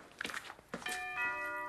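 A doorbell chimes, sounding a clear sustained tone that rings out after a few soft knocks or thumps in a quiet indoor scene.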